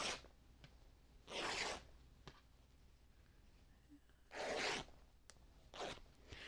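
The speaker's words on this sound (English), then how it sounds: "And now I can rip it." Quilting fabric ripped by hand along a straight line, giving three loud tearing bursts, two long and one short, separated by quiet pauses with small rustles.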